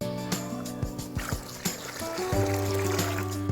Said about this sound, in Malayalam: ഞാനിപ്പോൾ ഒരു ലിറ്റർ വെള്ളം ഒഴിച്ചു കൊടുക്കുന്നുണ്ട്